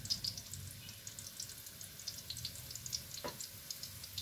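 Ginger cooking in a heating pan for squid adobo gives a faint, steady sizzle with scattered tiny pops and crackles, quiet and close, with no talk over it.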